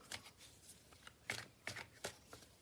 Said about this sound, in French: je vais prendre d'autres cartes